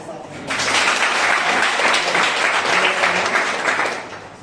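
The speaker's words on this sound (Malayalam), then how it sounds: "ഒരു ക്ലാപ്പ്" A room full of people at a police-run PSC coaching class event applaud in one sustained round of clapping that swells quickly, holds steady for several seconds, then begins to fade.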